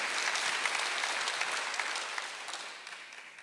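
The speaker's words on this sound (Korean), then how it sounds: "박수하세요." A church congregation applauding during a Sunday worship sermon, a steady wash of many hands clapping at a moderate distance that gradually fades.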